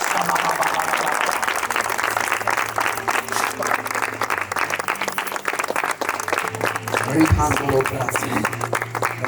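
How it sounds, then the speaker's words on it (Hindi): A church congregation at a 2024 revival meeting claps continuously to thank God, a dense, steady wash of many hands close by, with a low hum beneath it throughout. "ताली बजाकर परमेश्वर को धन्यवाद।"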